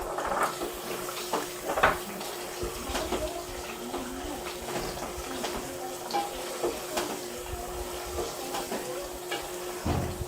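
Potatoes and yogurt fry in a pan, giving a steady, close sizzling hiss with small crackles and an occasional faint clink, continuous for the whole stretch.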